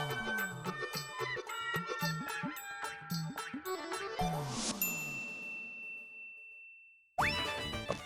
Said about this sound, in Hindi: अब्दुल का मैसेज